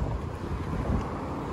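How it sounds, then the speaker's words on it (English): Wind buffets the microphone outdoors beside a 2020 Jeep Gladiator Rubicon, a steady low rumble and rush with no break. "it is a little windy today"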